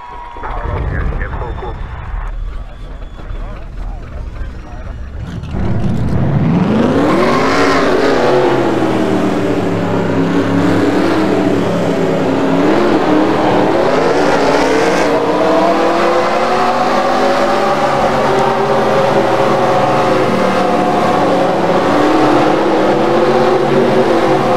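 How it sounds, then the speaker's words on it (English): Race car engines fire up and settle into a loud, continuous drone in the NASCAR Racing 2003 video game, 2002-season next-gen cars at Talladega 2001, sustained rumble with rising revs after a quieter start. "Drivers, start your engines!"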